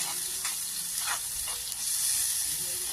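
Nutmeg pickle frying in a pan, a loud, steady sizzle close by, with a few soft scraping stir strokes over the hiss and no talking.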